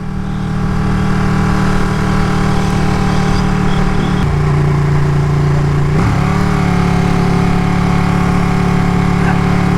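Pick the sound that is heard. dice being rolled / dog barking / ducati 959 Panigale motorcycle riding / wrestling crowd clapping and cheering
ducati 959 Panigale motorcycle riding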